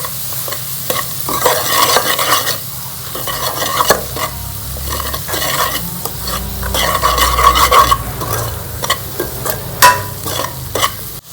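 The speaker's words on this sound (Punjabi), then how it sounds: "ਹੁਣ ਇਹ ਸਾਰੀਆਂ ਚੀਜ਼ਾਂ ਨੂੰ ਚੰਗੀ ਤਰ੍ਹਾਂ ਪਕਾ ਲਾਂਗੇ" Spices with turmeric powder cook in a pan for dhaba-style palak paneer, a steady close sizzle broken by repeated scraping stirs of a spoon through the thick masala, with no one talking.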